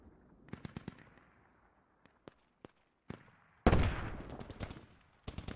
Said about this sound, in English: these mortars are getting a little bit closer